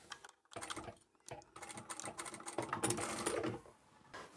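Sewing machine stitching the lining of a large reversible tote bag, short bursts of fast mechanical rattling broken by brief pauses, fairly close and moderately quiet.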